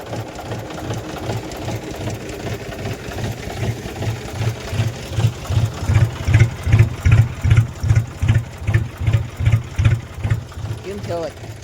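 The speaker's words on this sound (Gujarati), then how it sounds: "સવારના પોરમાં ટ્રેક્ટરનો સૂર તમે સાંભળજો ખાલી હો" Tractor engine running in the morning on a farm with a sprinkler irrigation system, a steady rhythmic chugging thud that grows louder and more pronounced partway through, with someone talking over it.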